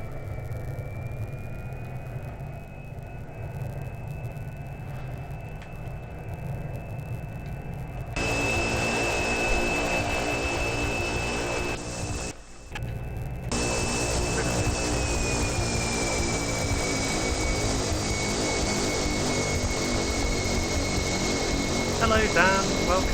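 Cessna Caravan turboprop engine in the X-Plane 10 flight simulator during taxiing, a steady droning whine with a high tone that swells louder partway through, briefly drops out, then holds at a constant level.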